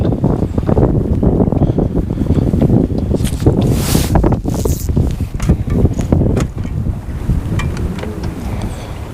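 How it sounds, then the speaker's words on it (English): Strong wind gusts hard outdoors on the water near a boat, buffeting the microphone with a loud, steady roar through the whole stretch, no voices. "Wind is blowing pretty hard again today."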